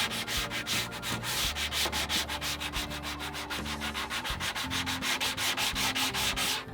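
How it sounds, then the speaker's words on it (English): Hand sanding near the bottom edge of a spray-painted wooden piece, with a fast, steady back-and-forth rasping stroke repeating close up, loud and continuous, with no talking. "I'm just going to hand sand right down here on the bottom"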